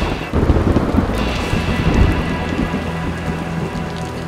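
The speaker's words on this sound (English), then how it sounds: "There's rain and there's West Virginia rain." Heavy rain pours down steadily with a dense, hissing roar at a World Scout Jamboree in West Virginia, and deep thunder rumbles through it; no voices are heard.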